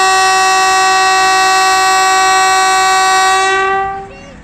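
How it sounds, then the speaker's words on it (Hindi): Horn of PH 28308, a diesel locomotive heading a passenger train out of a station bound for Havelian in Pakistan, sounds one long, loud, steady blast that holds for about four seconds, then cuts off and fades. "PH 28308 लोकोमोटिव लेकर आया है आज पैसेंजर ट्रेन को, और पहली विसल हो गई है इसकी"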